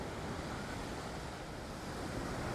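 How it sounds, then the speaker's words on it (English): Strong wind at a beach on Boracay Island roars and buffets the microphone in a dense, steady rush, blended with the wash of surf and no voices. "It's windy out here too, guys. Really windy."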